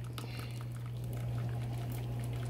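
Water drains and splashes steadily from al dente cooked pasta lifted slowly out of the pot, a continuous close liquid pouring with a low hum beneath.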